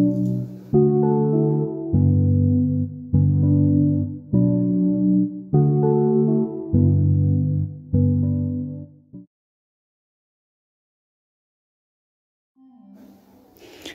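Afro beat chord progression built in FL Studio, voiced an octave lower with added notes, playing as rhythmic repeated synth chords in clean bursts before stopping into silence, with a soft sound returning at the end.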